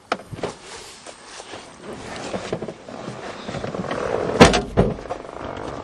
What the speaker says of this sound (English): I hope that window works.